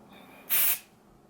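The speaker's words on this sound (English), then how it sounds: "Let's spray them in the air and see if the camera will pick up on that." A single short burst of Eva NYC glitter hair spray released into the air, a sharp close hiss lasting about a third of a second against near silence.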